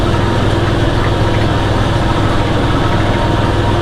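Tractor engine droning steadily while brush hogging a field at dusk, a loud close continuous rumble with an even mechanical throb and no pauses.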